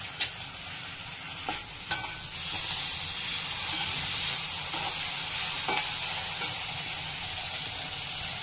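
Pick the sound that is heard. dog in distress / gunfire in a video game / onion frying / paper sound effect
onion frying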